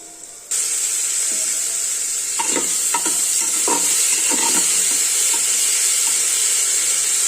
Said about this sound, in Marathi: टोमॅटो छान परतून घेऊया